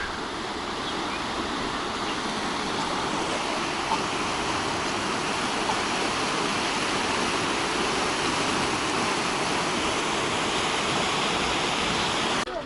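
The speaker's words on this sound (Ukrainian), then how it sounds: "такий мостик через бурну горну річку" Johnston Canyon's rushing mountain river roars under a small footbridge, a dense, unbroken wash of white-water noise that stays loud and even throughout, with no voices.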